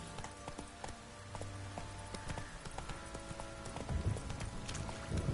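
Horse hooves clip-clop at a steady gallop in The Witcher 3: Wild Hunt, a close rhythmic pounding that carries on throughout, with a faint snort and brief game sounds mixed in.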